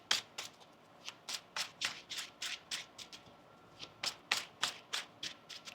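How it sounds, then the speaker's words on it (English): A deck of tarot cards being shuffled, giving a steady series of crisp riffling bursts, roughly two per second, with a short pause midway, close up and with no speech. "One more shuffle here."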